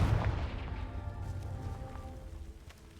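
A fiery blast from the Confringo spell in Hogwarts Legacy erupts with a loud, booming burst at the start, then rolls into a sustained crackling rumble that slowly fades.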